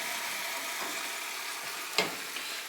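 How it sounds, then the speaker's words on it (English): Instant potatoes being stirred into a pot of clam chowder just taken off the heat, a soft continuous hiss and gentle scraping with one brief louder clink near the end, close by and steady with no talk. "and stir in those potatoes."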